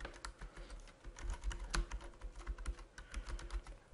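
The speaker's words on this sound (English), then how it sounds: "let's type in an email address that I want to subscribe" An email address being typed on a computer keyboard, a quick steady run of close, crisp key clicks with uneven rhythm and no talking.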